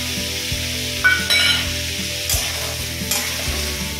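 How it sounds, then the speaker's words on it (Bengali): Chopped tomatoes and about twenty cashews fry in a pan for restaurant-style masala chicken, a soft close sizzle broken by several spatula scrapes and clinks from stirring, with no talking. "দিয়ে এগুলোকে সবকটাকে ভালো করে একটু ফ্রাই করে নিই"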